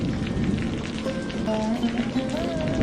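Steady rain falling and drumming on surfaces near a fishing boat, a dense continuous patter with no pauses and no speech.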